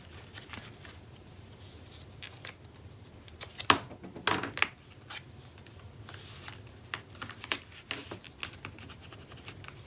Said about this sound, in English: Let's get some tape over that.